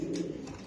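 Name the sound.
female pigeon calling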